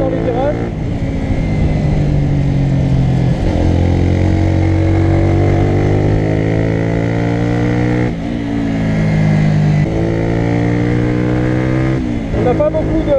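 A light 2016 Honda CBR125R motorcycle engine runs steadily at close range, its pitch rising through the revs in stages with brief dips at gear changes, loud and continuous throughout.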